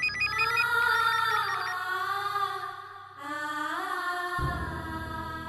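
A telephone rings in an indoor scene from a Hindi TV drama, with a steady electronic ringing tone whose pitch shifts partway through, loud and alone with no voices.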